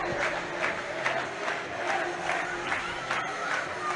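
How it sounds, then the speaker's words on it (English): Away fans at a Manchester Storm versus Sheffield Steelers ice hockey game cheer and applaud as a goal goes in, a continuous loud crowd roar with scattered claps and shouts. "Rapturous applause from the away fans as number 8 goes in."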